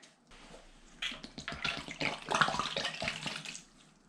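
Lemon juice is poured into a box for cleaning rusty car parts, a soft splashing trickle that starts after a brief quiet and runs for a few seconds before tapering off.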